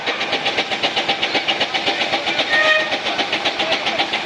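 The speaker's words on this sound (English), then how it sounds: "Very nice little roller there." A steam roller engine chuffs at a steam fair in a steady, rapid rhythm of regular puffs, loud and close, with a brief high whistle-like tone partway through.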